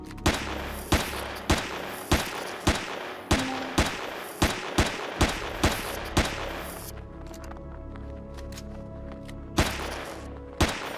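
Weapon fire at spiders in the sci-fi survival game Empyrion Galactic Survival: a run of about a dozen sharp, evenly spaced shots, loud and punchy, then a short pause and two more shots over a low background hum.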